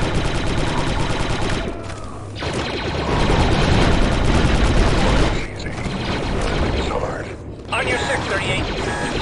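Blaster fire in Star Wars Republic Commando, dense loud bursts of energy shots and mechanical clatter over combat noise, with brief pauses and voices speaking over the fight.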